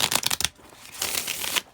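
A small deck of cards is shuffled at close range: a quick run of riffling snaps, a short pause, then a softer, smoother riffle.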